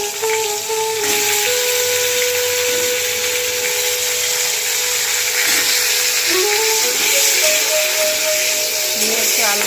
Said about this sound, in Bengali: এবার আমি আলুটা ছেড়ে দিলাম।